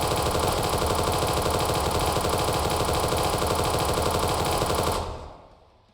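Sustained rapid automatic gunfire from a weapon in a COD Zombies-inspired video game, a loud dense rattle of shots that runs steadily for about five seconds before cutting off and fading into silence.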